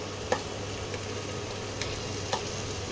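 Chopped onions fry in a pan for a katla fish curry, giving a soft, steady sizzle under a low hum, broken by a few faint clicks of stirring, with no one talking.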